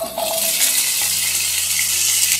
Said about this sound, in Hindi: मैं सारी सब्जियों को हल्के से फ्राई कर लूंगी